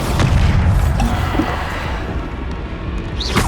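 Bombarda spell explosion in the video game Hogwarts Legacy, a loud deep boom with rumbling low end that slowly decays over a few seconds, with no talking.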